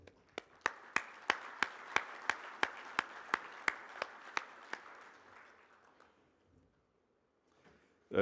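At a Worldchefs meeting during financial reports, the audience claps for the members and board in about fifteen evenly spaced, crisp beats that gradually weaken and trail off into near silence.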